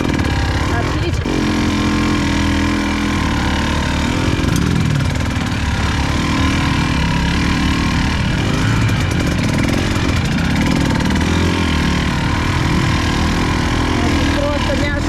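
A motorcycle engine drones loud and continuous throughout a ride, its pitch wavering as the throttle shifts, with wind buffeting and a person talking over it.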